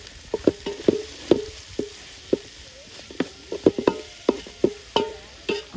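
A spoon stirs spiced chicken curry with black pepper in a pan, giving repeated scraping knocks in an uneven rhythm over a soft sizzle. The sound is close, moderately loud, and there is no talking.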